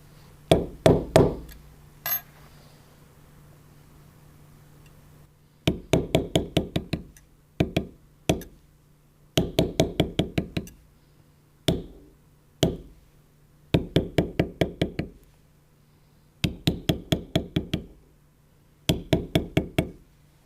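A mallet strikes a metal tooling stamp on leather while floral patterning a western belt, sharp woody knocks in quick bursts of four to eight blows separated by short pauses, close and clear with no talk.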